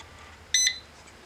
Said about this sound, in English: Hear that beep? That means it just programmed it.